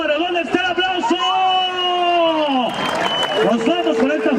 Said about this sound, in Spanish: ¿dónde está el aplauso?